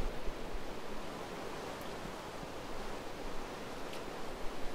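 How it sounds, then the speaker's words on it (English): Steady rain falls in the Minecraft video game, a constant broadband hiss with soft patter that stays even throughout, with no voices. "It's raining right now"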